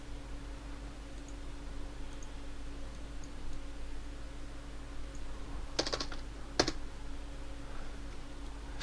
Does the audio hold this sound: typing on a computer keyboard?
yes